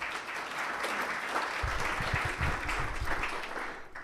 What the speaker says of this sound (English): Give Eva a nice round of applause